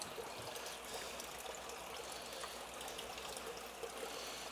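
Water pours steadily into a new leech tank being filled, a continuous broadband rush without breaks that stays at an even level throughout.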